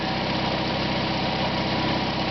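An Onan RV generator with a cracked exhaust header runs at a steady, smooth idle, a continuous close rumble with a slight vibrating hum and no voices.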